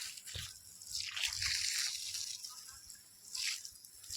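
Irrigation water from a pipe flows into a fenugreek field, sloshing and splashing steadily, with gushing surges of flow and a few splashy bursts, no voices heard.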